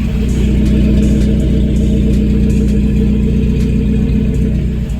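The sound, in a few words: Chevrolet S10 minitruck engine running and revving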